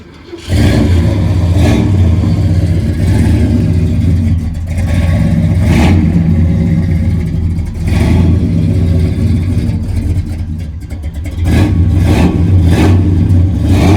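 Old carbureted engine of a 1976 Scarab car catching and then running loud and close, with repeated throttle blips rising and falling over a rough, steady idle.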